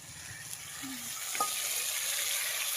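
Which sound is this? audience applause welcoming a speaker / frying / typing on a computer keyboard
frying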